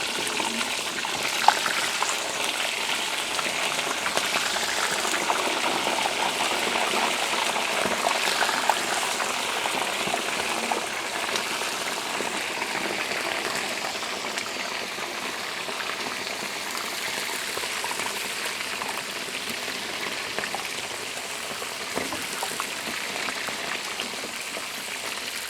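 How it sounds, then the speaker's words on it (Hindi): Chicken pieces marinated in vinegar and salt half-frying in hot oil over high heat, a steady dense crackling sizzle filling the whole stretch, close and unbroken with no voices. "अब इसको फ्राई करेंगे। इसको हमने हाफ़ फ्राई करना है"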